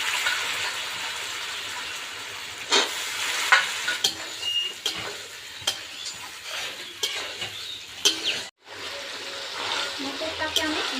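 Boiled peas are stirred into frying spice masala in a pan, a steady sizzle broken by repeated scraping clicks of the spoon and a brief pause near the end.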